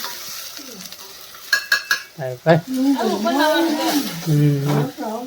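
Onions fry in a pan for roti surmu, a soft sizzle and stirring running beneath people talking close by.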